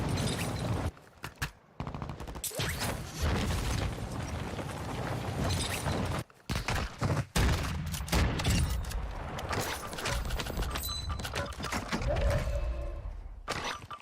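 Warzone 2 gameplay with dense, loud bursts of automatic gunfire and sharp rifle shots. They come in clustered volleys with brief gaps between them, and the battle din underneath never stops.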